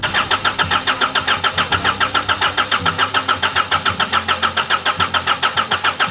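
An RV engine cranks over steadily on the starter during a compression test, a loud, even, rapid chugging rhythm that continues for the whole stretch without firing, close up, with no voices.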